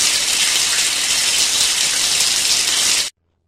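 Steady, dense water spray of a running shower, loud and continuous without a break for about three seconds, then cutting off abruptly into silence.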